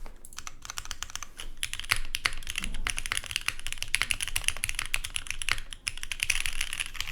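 A Bowl Keyboards Pangea full-size mechanical keyboard with long-pole switches that bottom out is typed on continuously, a dense, fairly loud patter of clacky keystrokes with no pauses.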